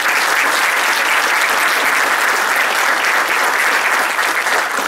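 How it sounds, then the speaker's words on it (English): Sustained applause from an audience at a fire department awards program, steady and dense for the full length with no voices breaking through. "Give them a round of applause."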